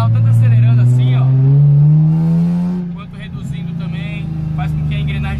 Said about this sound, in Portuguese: anda com o carro tanto acelerando assim, ó